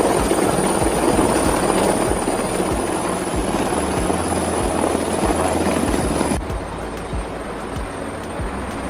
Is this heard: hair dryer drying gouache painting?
no